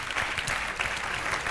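Brief burst of clapping from a studio audience at a Spanish talent-show contestant interview, steady and moderately loud throughout.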